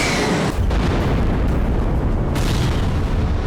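Explosions on Russian territory roar as a continuous loud, dense rumble with heavy low booming and sudden shifts in intensity, filling the clip without pause.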